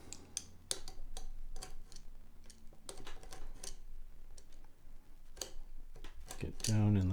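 Chisel and razor knife scraping and cutting into the nut of a cheap Barracuda Stratocaster, giving close, irregular ticks and clicks scattered across the stretch, with a voice speaking over them.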